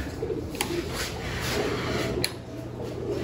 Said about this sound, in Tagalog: ito na yung mga kalapati namin